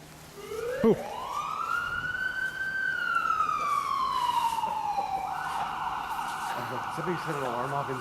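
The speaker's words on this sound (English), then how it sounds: "Somebody set an alarm off" An alarm goes off inside the old Lindsay Gaol prison, a wailing electronic tone that sweeps up, slowly falls, then settles into a steady shrill tone, loud and echoing.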